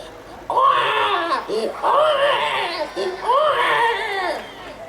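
A live comedian imitates a small child crying on stage, voicing three rising, wailing sob phrases with short gaps between them, loud and close.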